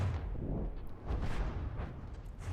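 Artillery shells firing in the naval combat game From the Depths, a steady rolling barrage of deep booms and low rumble with repeated bursts over about two and a half seconds, fairly distant and muffled, no voices.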